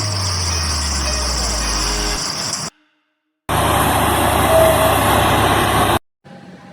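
A concrete mixer truck with its drum turning, heard as a steady, loud heavy-engine rumble in two sustained stretches split by short silences, with no talking.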